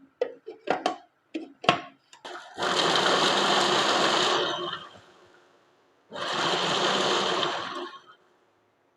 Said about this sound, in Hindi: अब मैं इसी चॉपर के अंदर ये मैंने 2 मीडियम प्याज ले लिए थे और 5-6 हरी मिर्चें, इसको चॉप कर लूँगी।